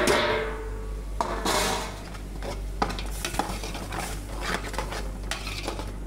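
Tomato paste and assorted spices frying in a pan for an Arabic chorva laham dish, with a spoon stirring and scraping the pan: a steady sizzle broken by repeated metallic scrapes, close and loud, no talking.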